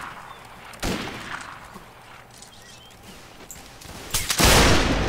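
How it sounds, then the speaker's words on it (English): Musket volleys from line infantry of the 32nd Regiment of Foot fire into a forest in Mount and Blade Warband: a sharp crack near the start, scattered distant shots, then a loud sustained volley near the end. "This year I'm gonna be shooting into the forest."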